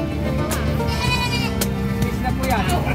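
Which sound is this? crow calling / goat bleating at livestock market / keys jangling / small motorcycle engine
goat bleating at livestock market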